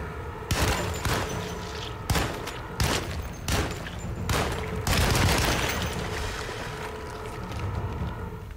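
Gunshots in the video game Alone in the Dark, several loud, sharp blasts at uneven intervals, each trailing into a rumbling decay, with a longer roar in the middle.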